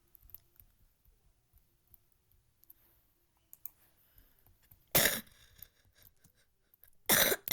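A person with a cold coughs twice in loud, harsh bursts, breaking a quiet stretch filled with faint, sparse mouse clicks.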